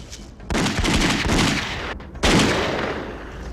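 Gunfire from pursuing men in The X-Files Game on PS1, loud and close: dense bursts of shots with a brief gap midway, then a renewed volley, with no talk.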